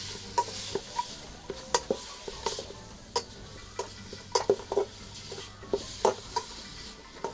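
Ripe date flesh goes into a pan of browning garlic, followed by a string of sharp spatula scrapes and clicks against the pan over a faint, low sizzle, fairly close and without talk.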